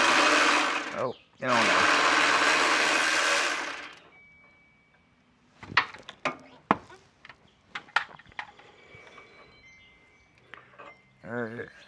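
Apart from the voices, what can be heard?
wrench loosening top nut of Honda Passport shock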